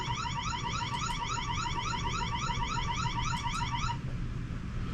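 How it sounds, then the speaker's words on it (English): A loud electronic security camera alarm, a Wyze system fitted in a converted school bus, cycles through rapid warbling, repeating tones for about four seconds, then cuts off, leaving steady background hum. "It was nice to actually check the alarms and make sure that all that worked."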